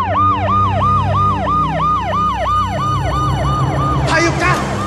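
A police siren wails in repeated rising and falling cycles, loud and close, over a low rumble of traffic, with a sharper burst of sound near the end.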